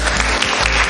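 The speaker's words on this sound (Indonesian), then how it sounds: "Tepuk tangan dulu." A brief burst of dense clapping from a classroom group of people, loud and close.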